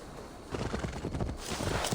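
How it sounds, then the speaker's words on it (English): Horse hooves clip-clop in a quick, steady rhythm over a constant background hiss in the video game Assassin's Creed Valhalla, the trotting growing a little louder toward the end. "Now to deliver Magni his horse"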